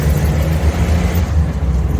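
A Suzuki Samurai engine roars under hard revs as the driver drops the clutch at high RPM, a loud, close, continuous rumble with a rough low throb and no voices over it.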